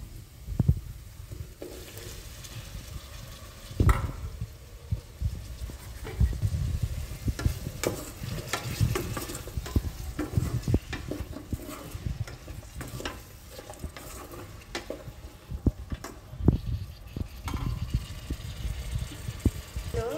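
Raw mango pieces sizzle in a fish curry while a spoon scrapes and stirs the pan, irregular clattering knocks over a soft, continuous frying hiss, fairly quiet and close.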